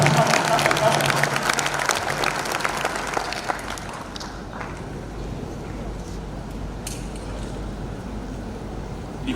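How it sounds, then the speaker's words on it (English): Graduation audience applauding teachers and the Vice Chancellor, a sustained wash of many hands clapping that starts strong and gradually thins, with a voice speaking over it. "Let us really clap for them because they've done us good."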